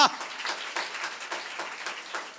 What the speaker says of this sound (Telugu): నమ్మినోళ్ళు స్తోత్రం చెప్పండి, చప్పట్లు కొట్టండి గట్టిగా